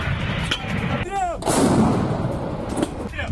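Russian MLRS rocket artillery fires on Ukrainian positions, producing loud, harsh booming blasts and rushing roar, with a brief rising whistle, packed into a few seconds of dense noise.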